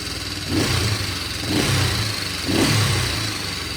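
Honda CB350 twin motorcycle engine after carburetor tuning, idling then blipped three times in an even rhythm, each rev rising briefly and settling back, close and clear.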